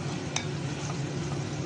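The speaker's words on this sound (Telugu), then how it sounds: "వేసుకొని బాగా కలుపుకోవాలి. ఇలా కలుపుకుంటూ ఉండాలి." Sugar is stirred into a dry fruit sweet mixture in a pan, giving a continuous gritty scraping and soft sizzle with one brief utensil click, close and steady with no talking.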